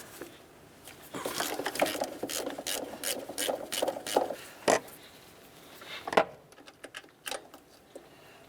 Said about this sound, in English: Let's go ahead and start removing those using our 12 millimeter. Just get my socket in here.